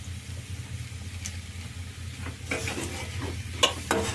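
Crab masala fries in a pan with a low, steady sizzle and stirring, with scraping and spattering rising in the second half, heard up close without speech.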